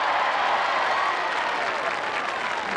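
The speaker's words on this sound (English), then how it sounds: "Give her a round of applause, please" Crowd applause at a televised 1987 costumed knockout tournament, a thick, continuous roar of clapping from a large audience, loud and unbroken throughout.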